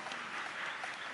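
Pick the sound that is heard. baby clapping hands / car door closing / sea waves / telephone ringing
baby clapping hands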